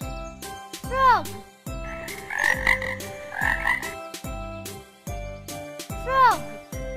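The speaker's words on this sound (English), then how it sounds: "Frog." Frog croaking in a children's animal-sounds lesson: bursts of raspy croaks in the middle and chirpy calls at the ends, set over a repeating jingle with steady beats, close and fairly loud.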